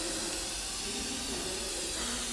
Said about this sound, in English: give the can a good shake, and then apply the remover liberally along the base of the ski